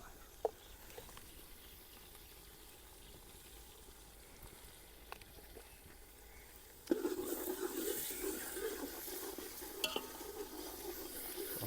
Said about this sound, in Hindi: टमाटर को भी मसालों के साथ भून लेंगे ताकि टमाटर जो है अच्छी तरह नरम हो जाए